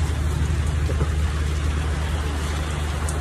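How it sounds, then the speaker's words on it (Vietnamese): Steady heavy rain pours down outdoors in a continuous dense hiss with a low rumble underneath, uniform and unbroken throughout with no clear voices. "trời đang mưa quý vị ơi"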